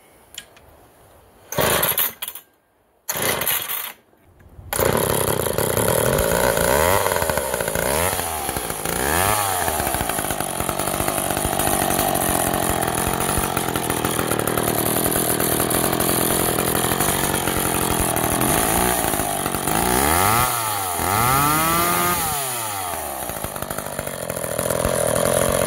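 A vintage McCulloch Pro 1010 automatic chainsaw sputters through a few short starting bursts, then fires up and runs loud and continuous, its two-stroke engine rising and falling in pitch as the throttle is blipped repeatedly.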